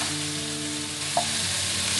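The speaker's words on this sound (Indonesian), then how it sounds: "Kita aduk sampai ayamnya berubah warna" Steady sizzling of chicken frying without oil in a hot wok, with a brief scrape of stirring partway through; no voices.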